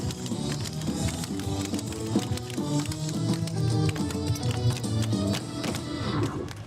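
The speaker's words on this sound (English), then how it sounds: "And you can hear them clogging in the background." Clogging footwork by the Prairie Thunder Cloggers at the Baraboo Big Top Parade, rapid tapping steps under loud music and crowd noise, fairly distant and partly masked.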